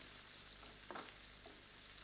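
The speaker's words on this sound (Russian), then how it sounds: "Я готовлю его на довольно большом огне," Onion fries on high heat in a nonstick pan, giving a steady, bright sizzle close up with a brief stir or clink near the middle.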